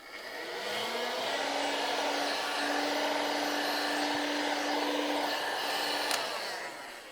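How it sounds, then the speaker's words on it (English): A heat gun shrinking heat shrink tubing during a 12v air compressor electrical upgrade: a steady close blowing whir spins up, holds evenly for several seconds, then cuts off with a small click. "Grab our heat gun"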